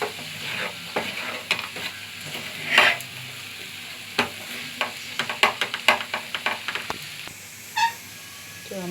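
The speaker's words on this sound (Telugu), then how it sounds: "ఇలా అంతా కలిసిపోయేలాగా కలపాలి" Bitter gourd fry is stirred in a pan, giving repeated scraping clinks of a spoon against metal over a soft steady sizzle, close and fairly quiet, with no talking.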